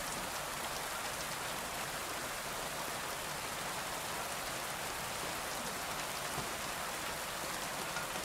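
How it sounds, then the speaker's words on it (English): Steady, dense rain pours down in Kingdom Come: Deliverance 2, a continuous broadband hiss of drops on surfaces, evenly loud and unbroken throughout with no voices. "That's some good rain right there."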